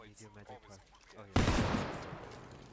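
A single loud, sharp sniper rifle shot in the Squad military game cracks out and rings off in a long decaying echo, just after someone speaks in a radio-like voice.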